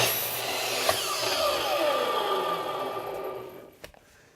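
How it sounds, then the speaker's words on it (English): Miter saw slicing through a short wooden workpiece, a near, loud whirring cut that rises and sweeps in pitch, then winds down, with a sharp knock near the end. "remove the spacer to make the cut"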